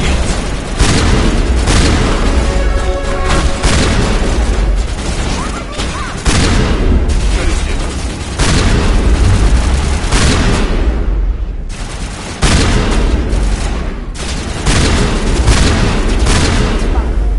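Grenades in Mass Effect go off in loud, heavy booms one after another, and the dense blasts and gunfire roar almost without pause through the whole stretch.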